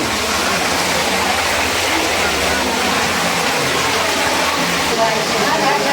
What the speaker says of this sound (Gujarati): આ સપ્તેશ્વર મહાદેવ તમે જોઈ, આ કુદરતી રીતે પાણી આવી રહ્યું છે.